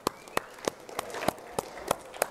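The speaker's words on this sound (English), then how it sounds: "big round of applause for yourself" A handful of sparse, separate claps ring out in a chemistry lecture hall, roughly eight sharp hand claps spaced about a third of a second apart over a faint room hum, sounding like a few students rather than a full crowd.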